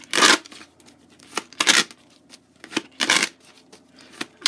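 Tarot cards are shuffled by hand in four or five crisp, riffling bursts, close and fairly loud, with quiet pauses between each shuffle.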